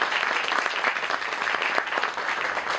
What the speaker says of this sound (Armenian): Տիգրան, ծափահարենք Տիգրանին նաև